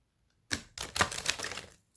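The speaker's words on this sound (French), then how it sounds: "Je vais remélanger un petit peu" A deck of oracle cards is shuffled, a quick close burst of soft flicking and riffling card clicks lasting about a second, faint and with no talk over it.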